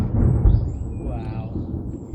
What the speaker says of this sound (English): Oh, we got some thunder.